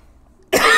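One sharp, loud cough bursts out after near silence and rings on for a moment.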